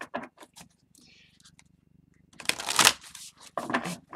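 Tarot cards are shuffled close by in a few rough riffling bursts, the longest near the end, with brief soft voice sounds in between.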